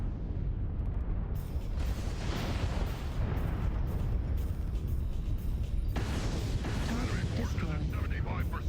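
Heavy mech weapons fire in MechWarrior Online during a group battle: a dense, sustained roar of cannon blasts and booming impacts that thickens after a brief quieter start, loud and continuous with no clear gaps.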